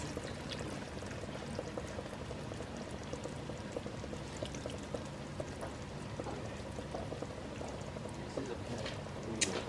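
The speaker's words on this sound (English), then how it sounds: "we're doing 3 tablespoons of Worcestershire sauce" Worcestershire sauce being poured into a bowl while making sloppy joe chaffles, a soft continuous trickle with faint liquid splashes, quiet and close, with light kitchen noise behind.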